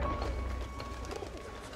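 A pigeon coos softly in the Valiant Hearts video game, low murmuring calls set against quiet background ambience, with no talk over them.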